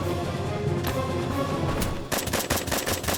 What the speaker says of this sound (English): See that? Flash grenades are no joke.